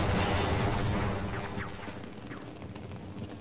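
A loud, dense video game explosion blast that slowly fades into rumbling debris, with a few faint scattered crackles as it dies away.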